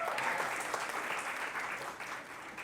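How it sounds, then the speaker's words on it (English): Applause for the facilitators of a mental health awareness event fills the room, a dense, steady patter of many hands clapping at close range without pause. "So a round of applause for the facilitators of this program."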